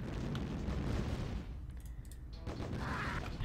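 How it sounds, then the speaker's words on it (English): Gun turret fire and explosions in Command & Conquer: Tiberian Dawn, dense booming blasts and rumble filling the first half, a brief lull, then more loud bursts. "The gun turret can attack the ORCA."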